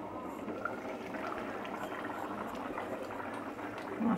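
A yogurt hilsa fish curry boils in a pan with a steady, dense bubbling simmer that stays even and close throughout, with no voices.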